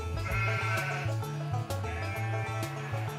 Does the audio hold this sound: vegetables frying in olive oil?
no